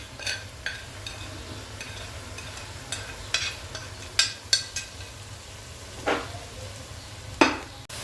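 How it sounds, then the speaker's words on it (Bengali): Eggs sautéing in a spiced sauce of ginger paste, cumin paste and ground coriander for egg korma, a low steady sizzle broken by several short clinks and scrapes of a stirring utensil against the pan, close by. "এখন আমি ডিমগুলো দিয়ে দিলাম। ডিমগুলো একটু কষাতে হবে।"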